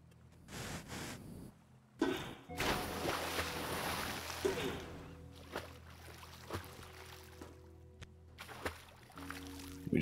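In a video game, a boat is shoved into water, giving a burst of splashing and churning, then quieter sloshes and trickles with a few sharp knocks and clunks.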